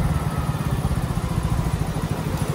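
A motorcycle engine putters steadily up close on the road near Lonavla, its low throbbing pulse running evenly without a break.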